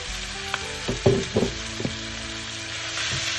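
Kimchi jjigae with belly pork, made with older sour kimchi, sizzles and bubbles in a pot while being stirred, with a steady frying hiss under several clunking stir strokes nearby.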